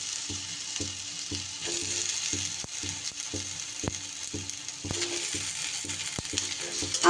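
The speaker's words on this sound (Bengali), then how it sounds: "আমসত্ত্বটাও দিয়ে যাচ্ছে একটু নাড়াচাড়া করে নেব।" Dates and chopped mango leather are stirred in a pan with a low sizzle, a spoon knocking against the pan in an even, repeating rhythm close by; no voices.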